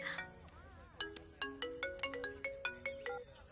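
A mobile phone plays a bright, rhythmic melodic ringtone, a steady run of evenly spaced chiming notes, clear and fairly close, with no talk over it.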